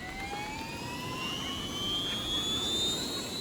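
A cartoon helicopter flying indoors, heard as a steady whirring engine drone with rising high-pitched whines, moderately loud and continuous, with no voices.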